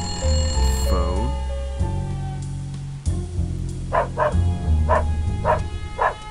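A dog barks repeatedly in the video game Nancy Drew: Stay Tuned for Danger, sharp yips arriving in a steady run of short bursts, preceded by electronic tones and other game sounds.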